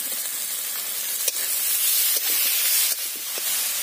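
Chopped tomato sizzling and frying in a hot pan of paste for a homemade snakehead fish curry, a steady, loud broadband hiss with a few brief stirring knocks, no talk.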